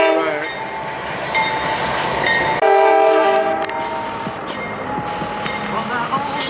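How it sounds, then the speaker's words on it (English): A big train rolls past close by in Valdosta, Georgia, its horn sounding in long loud blasts over the rumble of passing cars, with someone talking over it. "That is the big train here in"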